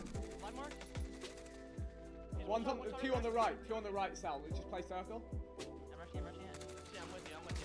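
Rapid gunfire from Call of Duty Warzone cracks in a steady series of sharp shots, with bursts overlapping, while someone talks over the action throughout.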